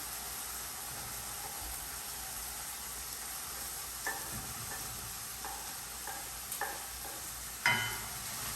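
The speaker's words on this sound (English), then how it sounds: "And then I'm going to add the garlic and the shallots" Garlic and shallots sizzle in a hot pan, a loud continuous frying hiss with a few sharp clicks and scrapes of stirring near the end.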